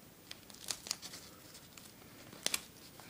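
A short length of duct tape, about 18 inches, being cut off the roll for a keychain carry, with a few faint crisp snips and rustles in an otherwise quiet space.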